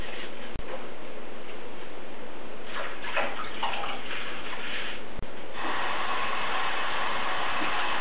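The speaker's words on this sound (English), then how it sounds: "The amount of water you have to have running through depends on how sandy it is." Running tap water rinses fresh leafy spinach to wash out sand, a steady broadband splashing stream that holds throughout with a few brief clicks and slight shifts in intensity, no talking.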